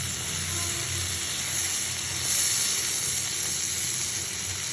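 Shrimp seasoned with cumin powder fries in a pan, giving a continuous, even sizzle that holds steady and close throughout.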